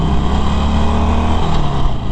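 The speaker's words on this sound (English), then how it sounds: "Real easy roll on the throttle there." A 2019 Harley-Davidson Forty-Eight Special motorcycle engine gives a loud, close, steady low rumble as the throttle is eased on gently during a test ride.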